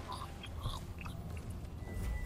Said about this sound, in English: I'm testing out because I'm eating grapes.